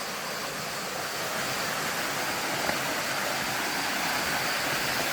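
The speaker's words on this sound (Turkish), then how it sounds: "Oradan da sular akıyor." Turgut waterfall near Marmaris pours water in a constant broadband rush, a steady hiss-like roar with no pauses, moderately distant and fairly quiet, alone without voices.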